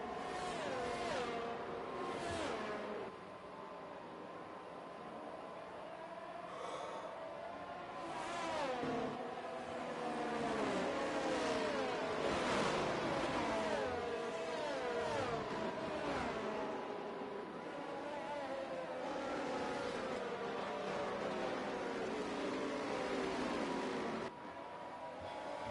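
F1 race cars in the F1 23 game at the Abu Dhabi circuit, engines wailing and sweeping up and down through gears as several cars pass, a dense continuous roar with no voices.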